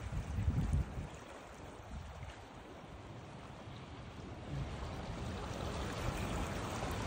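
Strong river current rushing steadily at a prospective fishing spot in New Zealand, a continuous broadband wash with some wind buffeting, heard alone with no talk.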